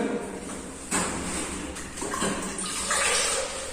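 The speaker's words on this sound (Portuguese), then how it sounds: "Agora eu vou passar uma espuma com água, para dar acabamento bacana aqui" A wet sponge drawn slowly across a fresh plaster finish, giving a soft, continuous watery swishing and scraping close by, rising and falling in a few strokes with no one talking.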